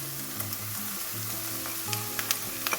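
Two crushed garlic cloves sizzle steadily in a hot pan for a deep dish pizza, with a continuous close frying crackle and a few light stirring clicks near the end.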